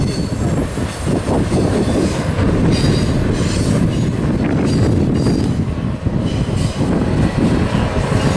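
An eastbound freight train passes close by on the Cajon Pass line, loud and continuous, with rumbling wagons, rhythmic wheel clatter and intermittent high wheel squeal, no voices.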